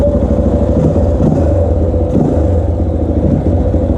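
A Honda XR400R motorcycle with engine modifications idling and revving up close, a loud continuous thumping single-cylinder rumble with slight swells in pitch and no talk.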